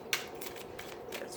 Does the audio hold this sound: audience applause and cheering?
no